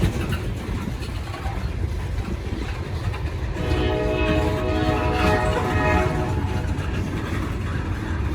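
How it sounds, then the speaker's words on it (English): A freight train rumbles past, and partway through its horn sounds a sustained salute over the rolling rail noise. "Somebody got a horn salute."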